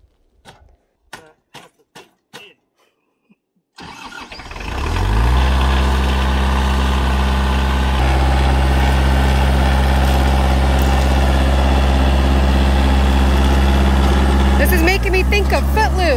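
A tractor engine cranks to life after a few short spoken words, then settles into a loud, steady low-pitched idle that keeps rumbling evenly for more than ten seconds.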